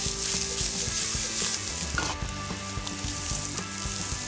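Chopped smoked bacon, garlic and fresh thyme frying in butter, giving a loud, close, continuous sizzle with crackles and no talking.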